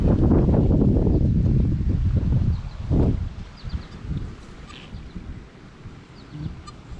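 Wind gusting outdoors during metal detecting, a loud low rumbling buffet on the microphone that is strongest at first, then eases into softer, uneven gusts, with no talking.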